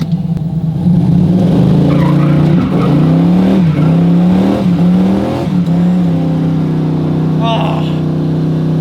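A Buick Regal accelerates hard on a rough street, its engine roaring loud and close with rising revs, brief tire chirps and gear changes, then settling into a steady drone.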